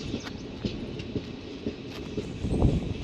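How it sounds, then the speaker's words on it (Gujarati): Passenger train on the line into Ahmedabad station, heard from inside a carriage: steady rumble with irregular rattling clacks from the wheels, close and moderately loud. "કડક કડક અવાજ આવે"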